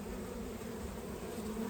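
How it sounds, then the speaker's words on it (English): Bumblebees at beehive boxes buzz in a steady, continuous low drone, close and moderately loud, with no talking. "Got some bumblebees out here too."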